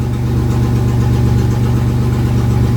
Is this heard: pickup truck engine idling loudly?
yes